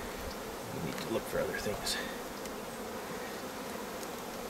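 Honeybees and drones buzz at a beehive being worked, a steady close hum that runs the whole time while a person talks over it.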